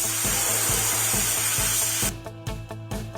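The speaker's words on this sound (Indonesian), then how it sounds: "Geser pistol semprot ke tempat yang rusak." Steady broadband hiss of a spray gun spraying paint onto a damaged car for about two seconds, then choppy bursts as the spray starts and stops, with rhythmic low thumps underneath.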